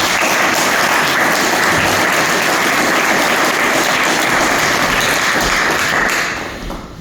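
A hall full of people claps loudly and continuously for a candidate at a community meeting in a Samoan church hall, dense applause that fades out near the end.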